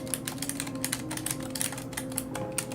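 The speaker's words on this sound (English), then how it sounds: "Like, it's a mechanical keyboard" A mechanical computer keyboard clatters with steady, fast clicking keystrokes, fairly close but quiet, with a low hum underneath and no talking.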